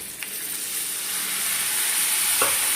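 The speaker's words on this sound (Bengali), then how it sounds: "পোস্ত বাটাটাও দিয়ে ভালো করে কষিয়ে নিতে হবে" Fennel and poppy seed paste sautéing in a pan for a potato and pointed gourd curry, a continuous loud frying hiss with two brief utensil clinks, no voices.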